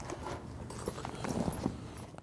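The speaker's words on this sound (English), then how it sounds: "Binion's brother Chase is getting his pickup horses ready" Pickup horses being readied for bucking horse rodeo work near Denver, hooves clip-clopping in a steady, moderately close series of soft knocks over a low rumble of background noise.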